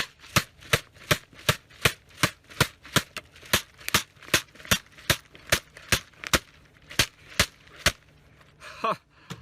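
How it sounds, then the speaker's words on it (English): AR-15 rifle with a laser light combo fired at a large steel silhouette target, about twenty sharp, evenly spaced shots in a rapid steady rhythm, loud and close, with a brief scrape at the end. "what I'm gonna predominantly be shooting at is that large silhouette to see if we can still make the hits"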